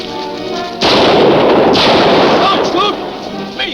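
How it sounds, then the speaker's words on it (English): A loud gunshot blast in a 1943 movie serial, a sharp burst followed by a rumbling echo that decays over a couple of seconds, with a brief vocal sound near the end. "What's the big idea of taking a shot at me?"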